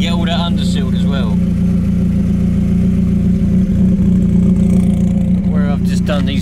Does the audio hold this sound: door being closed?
no